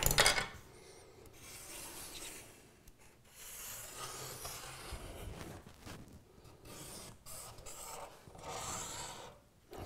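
A pencil scratches and rubs across a wooden countertop in long strokes, tracing a sink cutout template, with brief pauses between passes.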